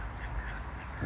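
Ducks quacking at a spring-fed pond in Driffield, East Yorkshire, a steady broadband chatter of calls that runs through the whole short moment with no talk over it.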